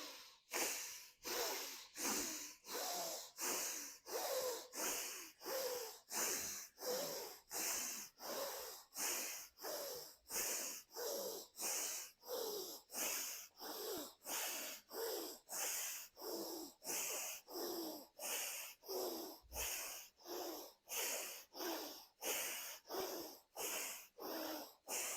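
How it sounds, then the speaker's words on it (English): Rapid, forceful Bhastrika breath-of-fire breathing, about twenty big inhale-exhale pulses in a steady rhythm, close and alone with no talking. "going for our 20 big breaths"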